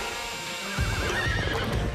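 A wild Kaimanawa horse from New Zealand neighs loudly and close, a long wavering whinny starting near the middle and running to the end over a steady outdoor background.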